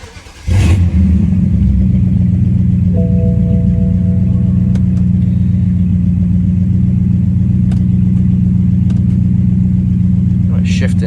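A BMW with a repaired SMG transmission starts and its engine runs loudly and close at a steady, rough idle with light revs, continuing for about ten seconds, with faint clicks and brief tones over it.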